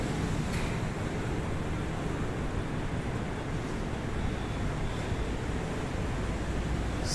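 Sea waves roll in at Appikonda beach near Visakhapatnam as a steady, loud roar of surf, with wind rushing across the microphone throughout.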